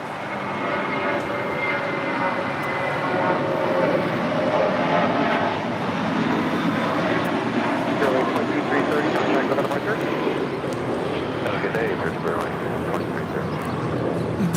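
A Spirit Airlines A320 takes off at LAX, its jet engines giving a broad, steady roar that stays loud throughout, with voices talking over it.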